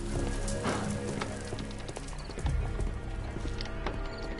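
A horse in the game Sherlock Holmes: The Devil's Daughter clip-clops steadily under a background hiss, with a louder thudding burst of hooves midway.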